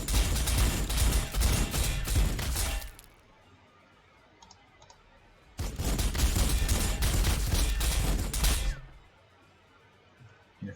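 Rapid, loud bursts of gunfire in Warhammer 40,000: Sanctus Reach, two sustained volleys of about three seconds each separated by a quiet pause.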